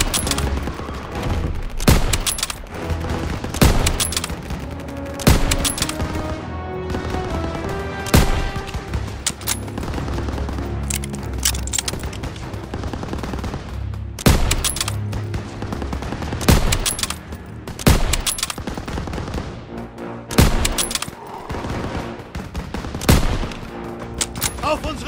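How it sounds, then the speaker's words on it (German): Gunfire from the World War II game Call of Duty WWII crackles throughout: dense volleys of rifle and machine-gun shots with loud sharp reports, layered over a dramatic music score and battle din. "Sie werden von hinten beschossen!"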